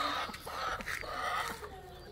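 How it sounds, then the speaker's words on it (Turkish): A chicken clucks as it wanders around a backyard coop, soft broken calls close by over a busy outdoor background hiss. "Bu tavuk da benim kümesin etrafında dolaşıyor."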